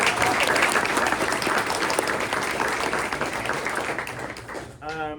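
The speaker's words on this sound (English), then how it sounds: "give Mark Gambardella and Dave Pinchard a round of applause" A luncheon audience applauds steadily for about five seconds, dense continuous clapping that fades near the end as a voice begins to speak.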